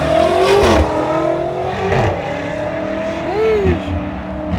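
A BMW M5 revs and accelerates close by at a car meet, loud engine notes rising and falling in pitch with a short squeal, while tire and road noise fill the background.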